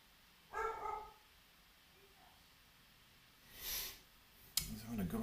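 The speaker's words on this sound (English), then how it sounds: "My dog's going nuts at something in the back garden" A dog barks a couple of times from a back garden, fairly distant and muffled, with a faint background hiss and a louder rustle near the end.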